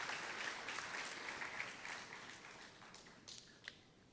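Faint audience applause at a university orientation opening ceremony, a continuous patter of many hands clapping, distant and fading slightly, with a few sharper claps near the end.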